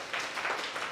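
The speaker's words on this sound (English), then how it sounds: "Can we get a round of applause for React Denver?" A brief burst of audience applause at a DenverScript tech meetup, a dense, even hiss of many hands clapping together for about a second.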